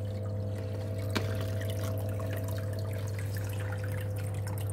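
An HJ-550 water pump pushes water through a large hose, giving a steady low hum with a soft, even trickle and faint drips, fairly quiet throughout.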